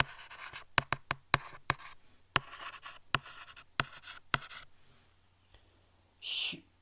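Pen scratches on exam paper while someone writes chemistry answers, quiet close strokes with sharp ticks in quick bursts, tapering toward the end, followed by a brief soft breathy rustle.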